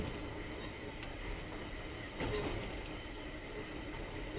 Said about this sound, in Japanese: 列車の中というのは眠気を誘われるものです。